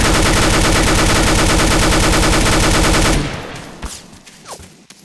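Rapid automatic gunfire in Garry's Mod, a loud unbroken rattle of evenly spaced shots that stops abruptly, followed by a few faint clicks and scattered quieter sounds.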